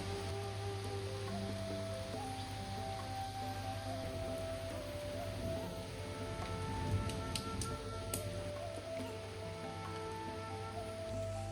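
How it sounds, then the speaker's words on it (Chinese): Rain pours during a violent thunderstorm over a rural vegetable plot, a faint, even hiss heard from indoors beneath a constant low electrical hum. "终于下雨了，天降甘露了"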